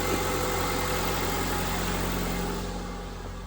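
A 2004 Honda Civic EX engine idles close by after a head gasket change, a low even rumble with a faint mechanical hum, holding constant before easing slightly quieter at the end.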